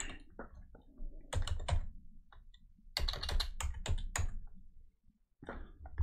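Bursts of quick computer keyboard typing, clustered key clicks with short pauses between runs, close and fairly quiet.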